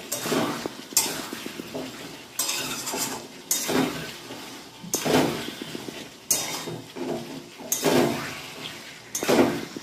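New potatoes tossed into spices in a pan, with repeated bursts of a spoon scraping and clattering against the metal pot, coming in uneven strokes roughly every second, close and moderately loud, with a soft frying hiss beneath.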